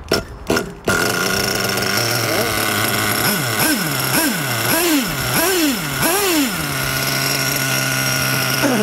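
A hot nitro RC car engine running during carburetor needle tuning, with a few sputtering pops as it starts, then a buzzing idle broken by a series of rising and falling revs before settling back to a steady idle.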